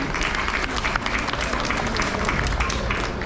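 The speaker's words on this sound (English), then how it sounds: "One more round of applause for Newman." An audience at a SeaWorld Orlando animal rescue show claps steadily and loudly for a rescued animal, with dense applause and faint crowd murmur sustained throughout.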